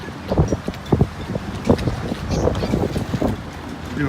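Strong wind buffets the microphone aboard a Beneteau 39 sailboat at a dock, gusting in uneven rumbling bursts with faint voices mixed underneath.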